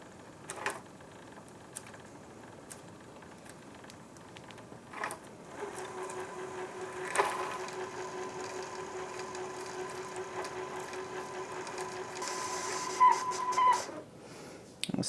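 A sewing machine winds thread onto a bobbin slowly, a quiet steady mechanical whir that starts after a few soft clicks and runs with a light hum.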